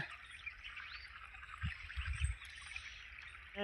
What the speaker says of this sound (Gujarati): પેલે સામેથી પાણી પડે છે